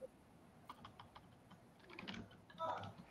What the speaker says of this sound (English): I was typing in the chat there